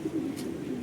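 Racing pigeons cooing softly in a continuous low murmur, close by, during a 105 km club training flight on a windy day, with no talk.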